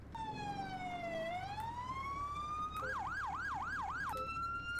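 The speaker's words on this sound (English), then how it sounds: "Just going to do a quick siren test to make sure everything's working." A police motorbike siren in GTA 5 runs through a test, first a slow rising and falling wail, then a fast yelping warble, then a return to a steady tone, loud and continuous throughout.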